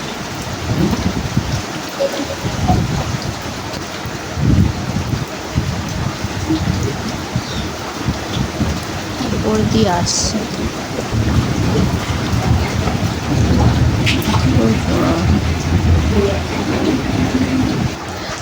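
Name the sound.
heavy rain with thunder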